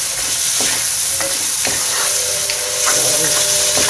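Celery and baby corn are stir-fried in a pan for chop suey: a steady sizzle with scattered clicks and scrapes of the spatula against the pan, fairly close.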